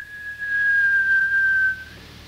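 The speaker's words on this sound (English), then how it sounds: "He pushed it open and gave a shrill whistle." A shrill whistle sound effect on a 1974 spoken word vinyl album of ghost tales, one sustained high tone of almost two seconds, loud and close with a slight downward drift, heard alone over faint record hiss.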